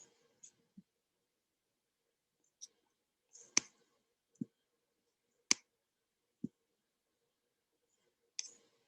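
Computer mouse clicking while setting up a calendar in project management software, a handful of faint, crisp single clicks spaced irregularly over a quiet background.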